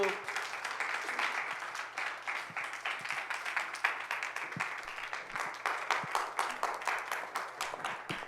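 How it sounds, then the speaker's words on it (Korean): An audience at a young adults' Sunday worship service claps to welcome two people forward, a fairly faint, steady patter of many hands continuing throughout. "앞으로 나올 때 큰 박수로 환영해 주시기 바랍니다"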